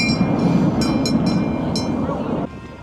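A train rolls past in South Queensferry, Scotland, with a loud, continuous rumble, rattle and high metallic squeals that cut off sharply near the end.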